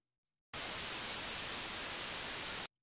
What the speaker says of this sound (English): Then select the noise wave.